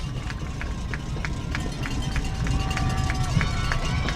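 Crowd noise from a high school football game, Lockhart Lions against Bastrop, rises during a third down play. A steady wash of many voices fills the clip, with a marching band nearby and a faint regular clatter running through it.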